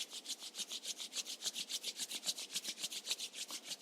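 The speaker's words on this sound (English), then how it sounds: "let's gently start rubbing our palms" Palms rub briskly together in a steady back-and-forth rhythm, about five strokes a second, each a soft dry swish heard close up in a quiet room.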